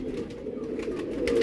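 A ten- or eleven-year-old Meenar pigeon coos softly in a low, steady murmur that swells slightly toward the end, with faint background rustle.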